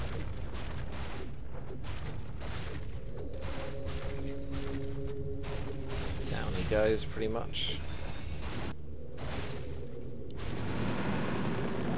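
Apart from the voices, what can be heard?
explosions in the video game Warcraft 3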